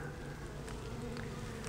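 Honey bees buzz steadily during a hive check while a beekeeper requeens the colony, a faint continuous drone with a few individual bees passing close, no talk.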